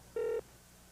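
A single short electronic telephone ring in a radio advertisement, one steady buzzing tone lasting about a quarter second, clear and up close.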